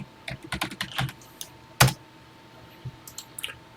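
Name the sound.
typing on a computer keyboard into Classic 99 emulator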